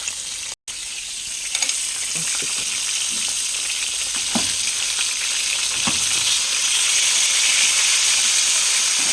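Water boiling hard in a covered pot of vegetable diningding, a steady loud bubbling hiss with occasional pops and clinks, close, with no talking.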